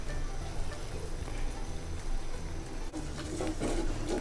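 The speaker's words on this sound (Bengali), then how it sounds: "এবার আমি মশলাটাকে ভালো করে কষিয়ে নিচ্ছি।" Spice paste (masala) for a torrent catfish curry fries in a pan with a steady, close, continuous sizzle that stays even and fairly loud throughout, with a few brighter crackles near the end.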